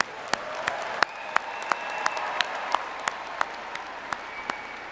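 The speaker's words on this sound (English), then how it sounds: "Graduates, just one more time, let's show our appreciation for these significant others." Graduation ceremony audience applauds in a large hall, a broad, even wash of many hands with a few sharper individual claps standing out, sustained and moderately distant, no talk over it.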